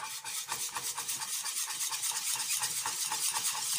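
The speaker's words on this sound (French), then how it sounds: "Vous mélangez à nouveau" Mustard is stirred into a sauce with a utensil, making a fast, rhythmic scraping and swishing against the pan that repeats steadily and close by, with no voices.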